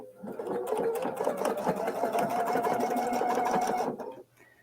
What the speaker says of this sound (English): you start doing it twice. Stitching it down twice.